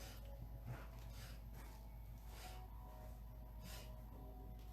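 Several soft, breathy nasal sniffs in a slow, uneven series as part of an evening yoga breathing practice, quiet and near, over faint background noise and without speech.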